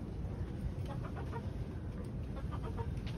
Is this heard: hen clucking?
yes